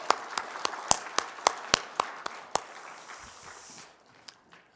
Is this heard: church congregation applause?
yes